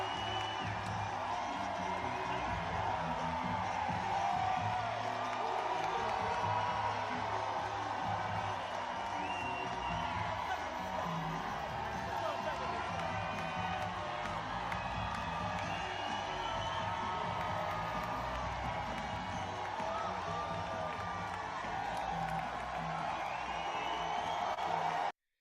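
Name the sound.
crowd cheering at a Joe Biden event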